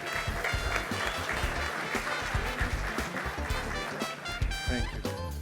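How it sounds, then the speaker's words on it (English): Audience applause fills a large room at the 2024 WEDF Alumni and Friends Awards evening as a presenter is welcomed, dense steady clapping that holds throughout with some low rumbling underneath. "a big round of applause for Tony Economou"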